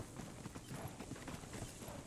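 Hooves of a ridden horse in the multiplayer game Monarky, a quick steady clip-clop rhythm over a noisy, busy background, fairly faint.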